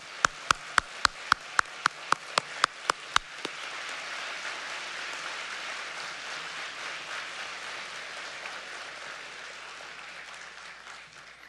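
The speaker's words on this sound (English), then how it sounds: "Let's give them a big, warm round of applause." At a museum benefit gala, a dozen sharp, evenly spaced claps lead off before the audience joins in with a broad, sustained wash of applause for the volunteers that carries on steadily for several seconds.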